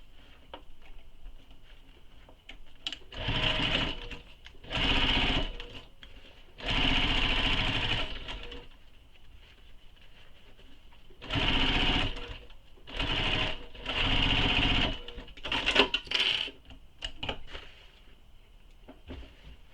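A sewing machine stitches the top and bottom of a quiver sling in several separate bursts of running, with short pauses between runs, close and fairly loud.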